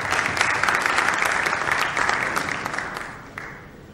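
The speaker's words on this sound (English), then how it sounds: "That needs special applause for him," Dense audience applause at a talk honouring Sunil Alagh, loud and steady at first, then thinning and fading toward the end, with no voices over it.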